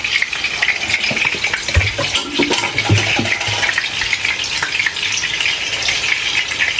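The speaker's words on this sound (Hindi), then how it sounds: "देर में ये स्टर फ्राई हो रहे हैं" Nargisi kofte lightly stir-frying in oil give a steady, close sizzle and hiss with occasional soft clinks of a utensil against the pan; no voices.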